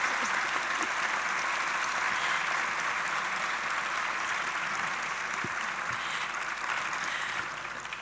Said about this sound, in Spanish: os pido un aplauso y disfrutar